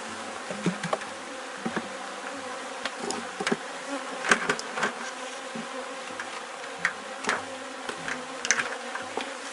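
Honeybees buzzing around an open hive in a small apiary as it is being closed, a dense continuous drone with individual bees passing close by, steady and fairly loud with no voices.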